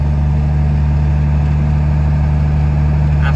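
A 12 valve Cummins truck engine drones loud and steady while driving in third gear on an icy road, a constant deep rumble close up with no talking.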